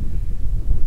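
Wind gusting across an open mountain summit in the Blue Ridge Mountains of Georgia, a steady low rumble of buffeting against the microphone with uneven swells throughout, loud and close with no one speaking.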